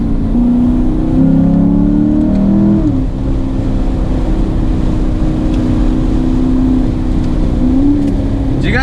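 A loud C7 Corvette engine pulls hard in 3rd gear on a mountain road, heard from inside the car, a deep droning roar whose pitch climbs, dips with a brief lift, then climbs again.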